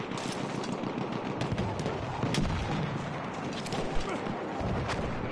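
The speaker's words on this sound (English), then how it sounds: "I'm just going to shoot at him and see." Gunfire from the video game Battlefield 1: dense, continuous shooting with sharp repeated shots and heavier booms over a steady battle din, loud and close throughout, with some faint voices underneath.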